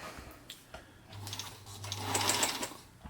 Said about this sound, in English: we should be all set to sew there. Just got a scrap piece of material here. Lower the press foot there.